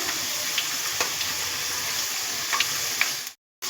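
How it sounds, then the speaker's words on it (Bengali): Sliced potatoes for homemade chips fry in bubbling oil in a kadai, giving a steady, close sizzle with soft crackles that cuts off abruptly near the end. "তেলের মধ্যে যে বাবলসগুলো উঠছে, এই যে কড়াইয়ে বাবলসগুলো উঠছে"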